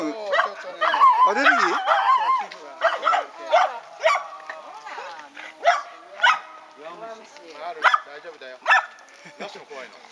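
A dog yips and barks repeatedly in short bursts, close and fairly loud, with whimpering tones between, while people talk nearby.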